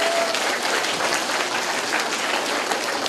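A school assembly audience at a Music In Our Schools Week event claps in a dense, even burst of applause, loud and sustained throughout with no voices standing out.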